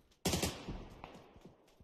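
Video game gunfire: a sharp loud burst of shots at the start, then a few scattered softer shots and impacts trailing off, with no one talking.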